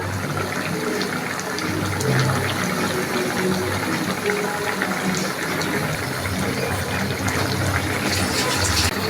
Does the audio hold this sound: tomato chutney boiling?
yes